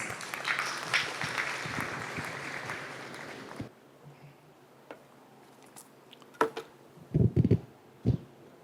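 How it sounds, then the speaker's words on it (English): At a national conference, an audience gives a round of applause to welcome a chairman for his presidential address. Dense clapping lasts about four seconds and stops abruptly, leaving a few faint knocks and shuffles. "please join me in extending a warm round of applause as we welcome Mr. Mathew Daniel"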